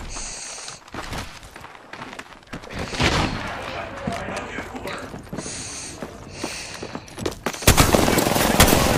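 Gunfire in the video game Apex Legends comes as bursts of sharp shots and rapid volleys of varying loudness, with a louder burst near the end.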